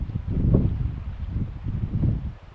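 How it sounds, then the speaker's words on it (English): Steady wind on the Hebrides buffets the microphone with low rumbling gusts that swell and fade, loud and close. "so it's pretty windy."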